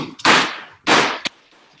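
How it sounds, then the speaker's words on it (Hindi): Two loud firecracker bangs go off during Diwali in quick succession, close and sharp, followed by a short crack, with no speech. "ये पटाखा बज जाए,"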